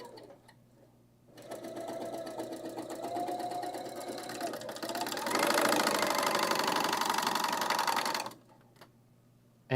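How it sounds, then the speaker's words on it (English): An electric sewing machine stitching a quarter-inch seam, a steady fast mechanical whirring and needle chatter that runs for several seconds, speeds up midway, then stops, close and fairly quiet. "And so we could just sew that line real quick."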